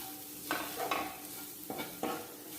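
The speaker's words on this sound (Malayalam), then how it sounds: "തേങ്ങയിൽ നല്ലോണം മുളക് പൊടിയും മഞ്ഞൾപ്പൊടിയും ഒക്കെ ഇട്ട് നന്നായിട്ട് പൊതിഞ്ഞു വരുന്ന രീതിയിൽ നമുക്കത് മിക്സ് ചെയ്യാം" A spoon stirs grated coconut with chili and turmeric powder in a pan for a Kerala pothichoru dish, making several close scraping strokes over a soft, steady sizzle.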